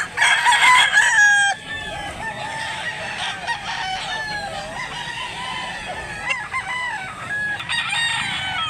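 Chickens and roosters at a poultry market in Mantalungon, Cebu, with one loud nearby crow at the start, then ongoing clucking and more distant crowing from many birds.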